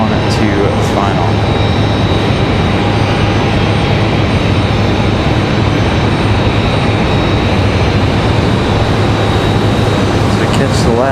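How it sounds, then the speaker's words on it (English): Copa Airlines airliner turning onto final approach at Raleigh-Durham International, a loud continuous jet roar with broadband rumble holding steady and close, no voices heard. "Copa making that right turn around for final here."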